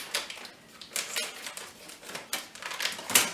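Scissors snip open a bag of chopped walnut pieces in a kitchen, a series of crisp, close cuts and rustles in an irregular rhythm, with no speech.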